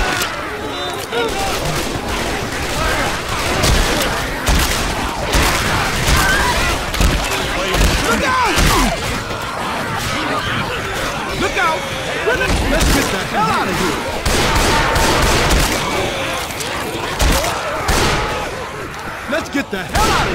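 Sustained, loud gunfire from Left 4 Dead 2 crackles in dense bursts throughout, mixed with shouting voices and chaotic combat noise.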